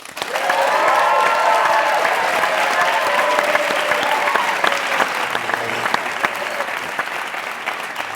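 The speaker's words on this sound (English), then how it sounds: "And those applause are real." A live studio audience applauding and cheering for Harvey Fierstein, loud sustained clapping with whoops and voices mixed in, steady throughout.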